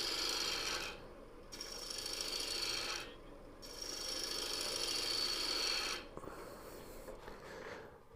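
A wood lathe turning a coffee scoop at about 600 RPM, with a tool scraping the spinning wood in a steady close rasp, broken by a few short pauses before cutting resumes.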